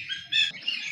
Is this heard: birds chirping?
yes